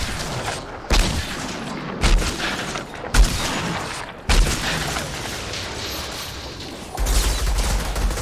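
Repeated heavy gunshots from a weapon fired until empty in the video game Outriders, roughly one loud blast per second in a steady rhythm, close and punchy with little talk.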